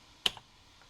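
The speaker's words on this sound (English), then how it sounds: "I don't know the layout of the Japanese keyboard." A single sharp keystroke on the keyboard of an NEC PC-8001 mkII Japanese computer, a close, quiet click followed by a softer secondary tap in an otherwise silent room.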